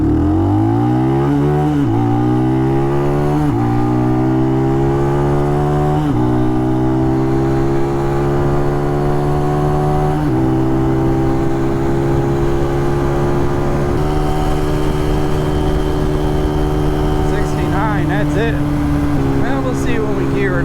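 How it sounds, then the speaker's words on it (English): An RPS Cruiser 300 EFI motorcycle accelerating hard through its gears up toward the rev limiter, a loud, close engine whine that climbs repeatedly in pitch with brief drops at each shift. "I mean, it's almost ready to hit the rev limiter."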